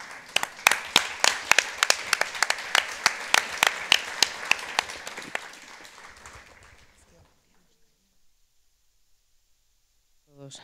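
An audience at a World Press Freedom Day event in Spain gives rhythmic applause for a music duo. The claps are steady and loud, then thin out and fade to near silence, with a faint sound returning at the very end.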